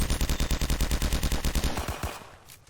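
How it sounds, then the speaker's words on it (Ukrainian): Rapid automatic gunfire in a Roblox D-Day battle game, a loud, evenly spaced burst of about twenty shots that stops abruptly and leaves a short fading tail. "Давайте просто так в туман постріляємо"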